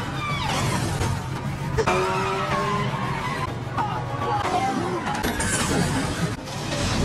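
A Bajaj auto rickshaw speeds through a street police chase, its loud engine roar mixed with skidding, tire squeals and crashing impacts in a dense, continuous action-scene din.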